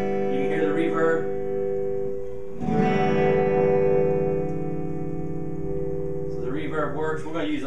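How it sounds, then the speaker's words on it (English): An electric guitar rings out through a vintage Fender PA 100 tube amp and vintage tower speakers with lush reverb, chords sustaining and washing into a long echoing tail between strums. "You can hear the reverb."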